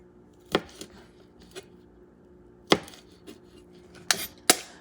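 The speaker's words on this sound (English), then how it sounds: "Cut them in 3 pieces so you can manage things nicely." A knife chops through large peeled shrimp on a board, giving a handful of sharp, separate knocks spaced irregularly across a few seconds, close and fairly quiet, with no talk.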